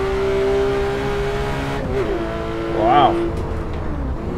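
A Porsche 911 R races at the Red Bull Ring in Assetto Corsa, its engine holding a steady high whine that shifts and rises briefly, while a voice speaks a short word over it.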